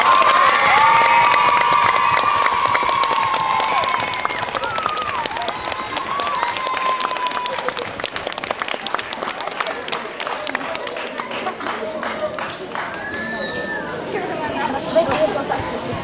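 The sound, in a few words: applause for the second-place winner at an award ceremony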